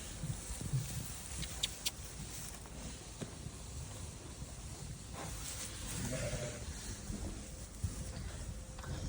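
Sheep and newborn lambs bleating in a lambing shed, several scattered calls over several seconds, some close and some farther off, with faint rustling and movement between them.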